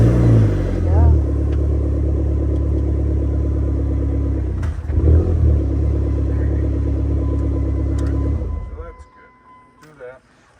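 A Dodge SRT-4 that sat unused for three years runs steadily after starting, a loud, continuous low engine drone with a brief dip midway, then cutting out and fading near the end. Voices are faintly present.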